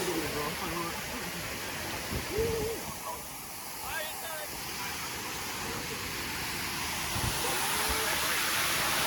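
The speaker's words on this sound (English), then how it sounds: "Yeah, look at that, getting up this close to the waterfall, pretty nice." Steady broadband rush of a waterfall at an amusement park beside a roller coaster, close and constant throughout, with faint voices and crowd noise mixed in.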